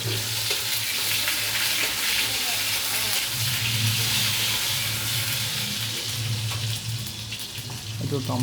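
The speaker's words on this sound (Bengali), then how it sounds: "এবার ভেজে নেওয়া হলো।" Young jackfruit and tomato frying in a pan, a dense, continuous sizzle with scraping stirs and faint background chatter.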